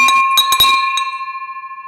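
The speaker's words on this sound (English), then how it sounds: "I love that bell, man." A single bell is struck close up and rings out with a bright, sustained tone that slowly decays, with a few light knocks at the start and no talk.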